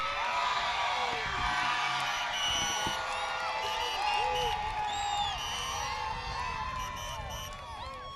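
A large graduation audience in a middle school ceremony cheers and whoops loudly, many overlapping shouts and high cries forming a sustained roar of crowd noise throughout.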